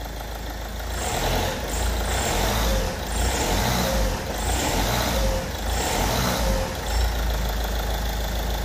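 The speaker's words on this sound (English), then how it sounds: "Let me rev it." A diesel vehicle engine with a DPF problem idles loudly up close, then swells in several repeated revs that rise and fall about once a second before dropping back.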